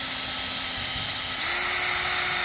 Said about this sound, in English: Hit it with the drill estimate between 1200 and 1600 RPM.